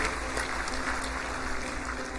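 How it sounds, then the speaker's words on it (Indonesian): Audience at a formal government gathering applauding, a continuous dense wash of clapping heard through a reverberant hall, steady and loud for the whole stretch. "Sekali lagi tepuk tangan buat seluruh hadirin"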